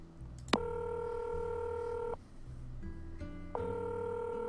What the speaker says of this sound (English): And make a phone call.